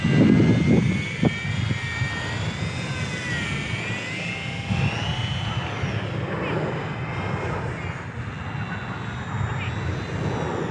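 A small Eachine Mini P-47 RC warbird model plane hovers and flies nearby in light wind, its electric motor giving a steady whining drone that rises and falls, with outdoor wind noise and a voice speaking over it.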